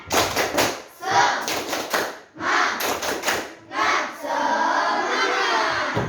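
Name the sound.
group doing a rhythmic spirit clap (tepuk semangat)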